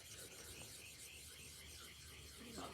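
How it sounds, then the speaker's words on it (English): A hand plane blade from a 100-year-old wooden plane is worked over a 400 grit diamond sharpening stone, making a continuous gritty rasping rub, faint but steady throughout with no talking. "we're going to work the blade over the diamond stone"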